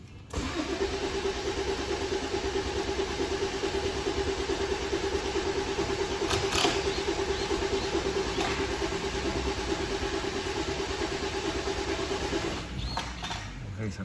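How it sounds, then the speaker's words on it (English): Toyota Avensis engine cranking without catching, a steady whirring starter drone held for about twelve seconds at close range, with a short murmur of speech at the end. "we look at this while I'm cranking the engine here"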